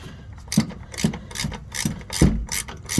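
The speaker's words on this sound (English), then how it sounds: "a wrench that has a little gear in it, so it goes a little faster" A ratcheting gear wrench turns a rear shock bolt on a 2007-or-later Toyota Tundra, a close, loud run of quick ratchet clicks in repeated strokes about every half second, no talk.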